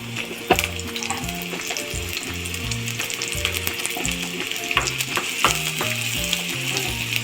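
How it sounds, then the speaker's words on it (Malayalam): Finely chopped onions fry in hot coconut oil in a clay pot, a continuous close sizzle with sharp crackles, heard under rhythmic background music. "എണ്ണ നല്ല പോലെ ചൂടാവുമ്പോൾ നമ്മൾ അതിലേക്ക് ഉള്ളിയാണ് കേട്ടോ ചേർത്ത് കൊടുക്കുന്നത്."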